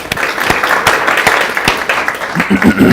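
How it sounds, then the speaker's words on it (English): Audience applause in a studio setting: scattered claps ring out near, a steady patter of hands that thickens toward the end, with some murmuring voices underneath. "But can we have a round of applause for Carol?"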